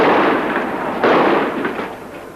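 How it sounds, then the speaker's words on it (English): Gunfire rings out during a 1979 attack on an anti-Ku Klux Klan demonstration in North Carolina, a few loud cracking bursts in noisy, lo-fi archival news sound. "They produce guns and they open fire"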